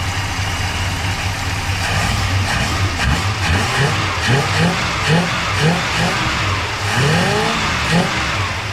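A car engine revs up and down repeatedly, loud and close, with rising and falling pitch sweeps over a steady idle.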